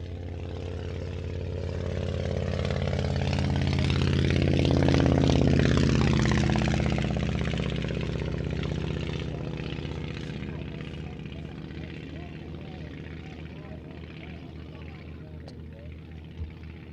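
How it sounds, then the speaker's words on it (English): Propeller engine of a Southern Martlet vintage aircraft at an air show, a loud droning rumble that swells as it passes close by around the middle, then fades steadily into the distance. "This is the Southern Air Martlet, just taking to the runway, be taking offshore."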